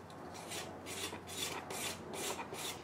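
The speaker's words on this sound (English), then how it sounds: "The bottom is a little bit uneven, so I'm gonna just start off by scraping." Rhythmic rasping strokes of a tool scraping uneven plaster, about six even back-and-forth passes, close and fairly quiet, no voices.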